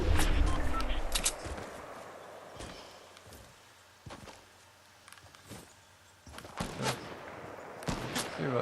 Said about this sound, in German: irgendwo schießt einer auf mich.